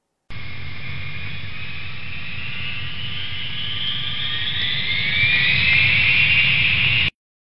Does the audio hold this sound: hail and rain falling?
no